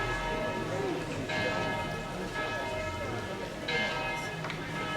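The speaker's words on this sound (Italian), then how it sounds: "Andiamo avanti anche con le campane." Church bells ring continuously outdoors during a concert in Castello Tesino, with fresh strikes adding bright layered overtones over a dense, steady wash of resonant tolling.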